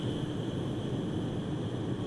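A steady, droning plane engine in a flight simulator game, apparently a small SR-22 sport plane, holds an even loudness throughout with a faint high whine layered over a broad low rumble.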